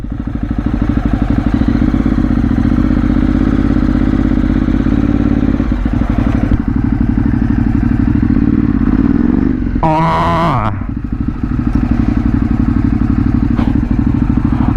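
A Ducati 848 motorcycle engine idles steadily and loudly up close with a deep, chugging airbox intake rumble, a brief higher whine and clatter interrupting midway.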